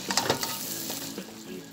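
Food sizzles and crackles as it is stirred in a cooking pot, with scraping strokes near the start, then a softer, steady frying hiss, close and without talk.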